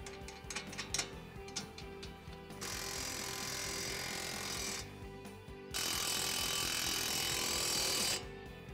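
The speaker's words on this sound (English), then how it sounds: "Okay, we ran them down with the impact." An impact wrench running down lug nuts on a 2024 Mustang wheel during a lowering-spring install gives two long, steady rattling bursts after a stretch of light clicking and handling noise, with no talking.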